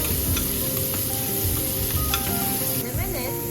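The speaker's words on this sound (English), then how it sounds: "Let's use the same pan without washing it out to start frying our onions." Onions fry in a used pan with a loud, steady sizzle and crackle, close up, with faint stirring scrapes and no talking.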